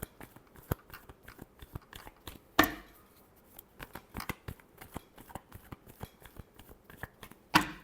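Tarot cards are shuffled in a quick run of sharp, papery snaps and riffles, each close and distinct, with two louder slaps standing out from the softer flicks and no voices over them.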